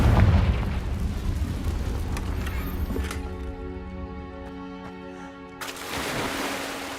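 A Confringo blasting spell explodes in the Hogwarts Legacy video game, a loud burst at the start that fades into rumble and a steady tonal hum before swelling again.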